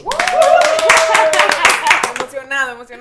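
Clapping for a rock band at their 25th-anniversary celebration, a short burst of hand claps heard under voices talking, dense at first and thinning out toward the end.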